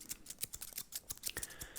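Scissors snip hair during a fast haircut, a quick run of crisp, close cutting strokes in an uneven rhythm, about a dozen snips with no talking.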